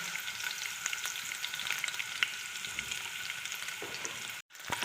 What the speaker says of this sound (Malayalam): ചൂടായിട്ടാകുമ്പോൾ ഇതിലേക്ക് ഇഞ്ചി വെളുത്തുള്ളി ചതച്ചത് ഇട്ട് കൊടുക്കാം.